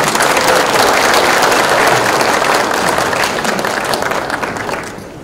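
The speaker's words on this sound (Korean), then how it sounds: "큰 박수 부탁합니다." An audience at a city-hall open forum gives loud, sustained applause as the mayor is introduced, a thick, steady roar of clapping that tapers off toward the end.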